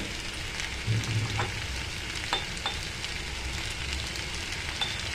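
Split-pea fritter curry frying in a pan while being stirred, a steady close sizzle with soft scraping stir strokes and small pops throughout.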